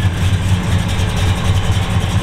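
A 1956 Chevy Bel Air hot rod with a 454 V8 idles cold just after being fired up, a steady, loud, low rumbling idle with an even pulsing throb and no speech.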